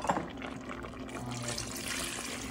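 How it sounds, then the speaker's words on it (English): Water pours into a pot for cooking wide egg noodles in a home kitchen, a steady, close splashing and trickling fill that runs for a couple of seconds without speech. "Here, more water is being added, another cup and a third"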